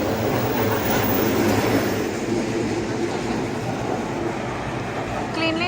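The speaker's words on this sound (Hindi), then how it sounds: "ये देखो भैया ट्रेन आ चुकी है" A train rumbles steadily nearby at a station in Tokyo, Japan, with a constant mechanical roar, ending in a brief high squeal of wheels or brakes.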